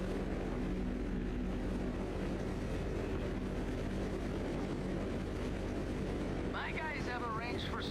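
An aircraft drones on steadily in GTA Online, a low continuous engine hum that holds its level throughout, with a brief warbling chirp near the end.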